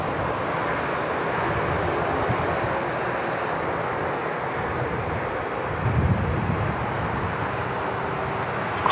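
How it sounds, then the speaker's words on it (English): A Qantas airliner taking off from Sydney Airport's runway 34 left, bound for Singapore: a steady, loud broadband jet engine roar holding throughout, heard from a distance with some wind buffeting and no talk. "Qantas 81 clear for takeoff there on 34 left, heading off to Singapore."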